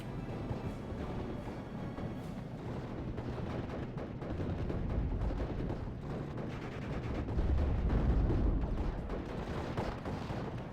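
Heavy mortar barrages and battlefield gunfire in a WWII real-time strategy game pitting 6th Airborne against 352 Infanterie, a dense continuous roar of overlapping blasts that swells louder toward the end.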